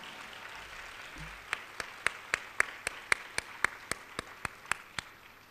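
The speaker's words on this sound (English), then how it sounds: "we'd like to give a nice applause for the students here tonight, as well as the winners and the nominees" Audience at a student awards gala applauding, heard as a sparse run of about fifteen sharp, evenly spaced hand claps at moderate distance over a quiet room, with no talk.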